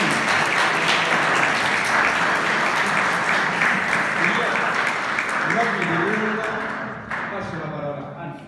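Audience applause for a musician and orchestra conductor at a school concert, steady full clapping that carries on for several seconds, then tapers off with voices and chatter emerging underneath.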